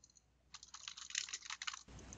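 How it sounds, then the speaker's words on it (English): Rapid keystrokes on a computer keyboard during game coding, a dense burst of clicking typing for about a second and a half, close and clear with no talk. "I don't think you need to see me typing that out a million times"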